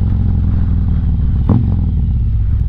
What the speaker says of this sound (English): Oh, I love this bike.